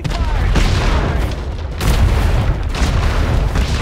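Heavy galleon cannon fire rolls through a naval fleet battle in the Atlas game, with dense overlapping booms forming a continuous loud barrage that swells again partway through.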